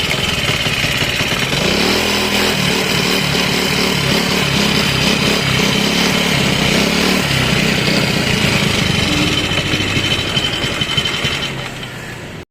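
A Choi nori motorbike engine with a dirty carburetor runs loud and close for several seconds, a buzzing, uneven idle that rises and falls before cutting off at the end.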